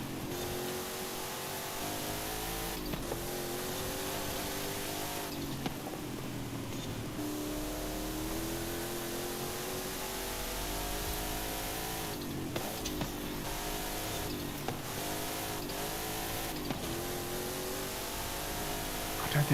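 Turbocharged V8 race car in Forza Horizon 5, lapping the Goliath circuit against AI, drones at a steady high rev with shifting harmonic pitch, occasional gear changes and bumps, loud and continuous throughout.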